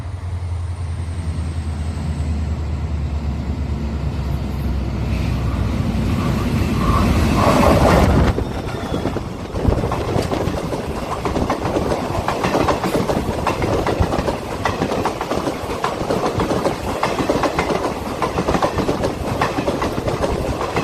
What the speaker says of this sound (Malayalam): ഇനി നമുക്ക് പാലത്തിലൂടെ ട്രെയിൻ വരുന്നത് കാണാം